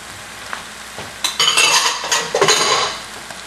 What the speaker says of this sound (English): I'm going to add a half a cup of tomato paste right here to the center.